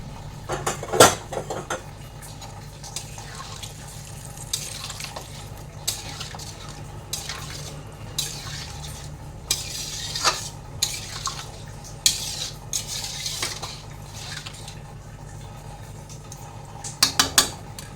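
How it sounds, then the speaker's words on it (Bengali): Hot water poured into a cooking pot and stirred, with metal spoon scrapes and clinks against the pot, light drips and a soft sizzle running under a steady low kitchen hum, no talking. "গরম জলটা এখন দিয়ে দিলাম।"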